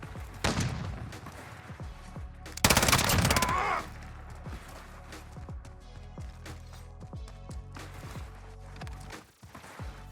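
A Finn LMG fired in Modern Warfare gameplay: dense, rapid automatic bursts with a loud sustained volley near the middle, plus scattered shots and game effects, close and punchy.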